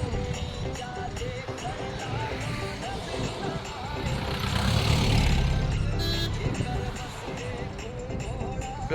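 Highway traffic near a desert national park at Jaisalmer, heard by someone crossing the road. Passing vehicles give a steady rumble that swells to a louder pass midway, with brief beeps and voices talking over it.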